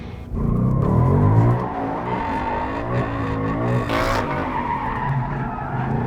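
A 2018 Ford Mustang RTR drifting, tires skidding and squealing loudly for several seconds as the engine revs, close and continuous.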